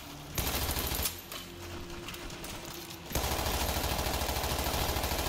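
Suppressed gunfire in World War Z, a zombie shooter video game: rapid, steady automatic bursts of muffled shots, pausing briefly and then resuming louder and continuous.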